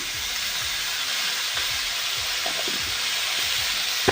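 Radish and beans fry in a pan with salt and turmeric, a steady hiss of oil running throughout while light scraping clicks from stirring come and go, with no voices.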